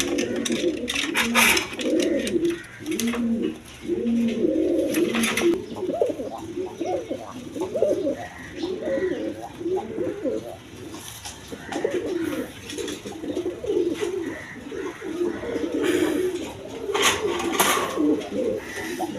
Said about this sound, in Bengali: দর্শক দেখেন এখানে এক পেয়ার শার্টিং কবুতর আছে